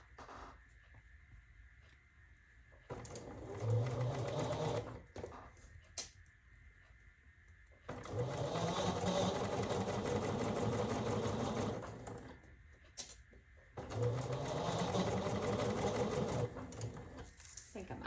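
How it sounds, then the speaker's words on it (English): A sewing machine stitches a quarter-inch seam on a strawberry quilt block in three separate runs of rapid, steady whirring, each lasting a few seconds, with brief quiet pauses and someone speaking softly between them. "now let's go to the sewing machine and sew 1/4 of an inch"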